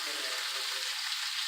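A ribeye steak brushed with garlic butter sizzles in a pan, giving a brief, bright, steady hiss up close with no talking.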